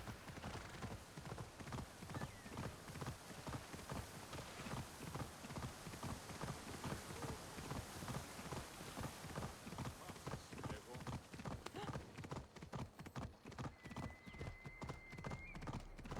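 A horse gallops in Assassin's Creed Odyssey with rapid, steady hoofbeats that stay close and loud throughout, joined near the end by a brief high tonal game sound.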